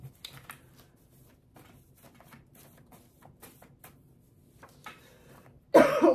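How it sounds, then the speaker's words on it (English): A single dry cough bursts out near the end after several seconds of quiet rustling and faint handling noises, close and fairly loud. "I just got like a dry cough there"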